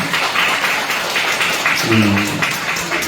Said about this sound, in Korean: 오늘 남전도에 헌신이 된 우리 남전도를 위해서 한번 큰 박수 보내주시기 바랍니다.